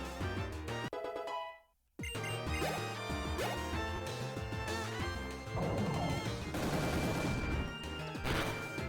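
Sharp crashing impacts from rocks being smashed in the Pokemon Black 2 video game. Several loud hits punctuate busy game music after a brief silent gap.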